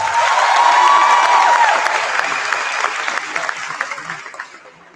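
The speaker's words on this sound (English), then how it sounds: "please give them a big round of applause" An audience at a student symposium inaugural ceremony gives a big round of applause after a lively performance, loud dense clapping with some cheering that starts strong and gradually fades away.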